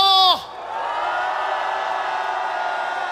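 A large crowd at an outdoor political rally calling for a presidential impeachment cheers and whoops with a sustained roar. It follows the tail of an amplified voice.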